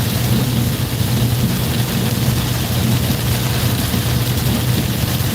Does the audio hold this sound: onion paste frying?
no